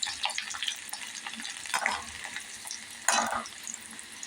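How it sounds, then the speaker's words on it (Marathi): Bitter gourd (karela) frying in hot oil over medium heat, a steady close sizzle with occasional louder crackling bursts and light stirring. "आता हे आपण चांगलं फ्राय करून घ्यायचं"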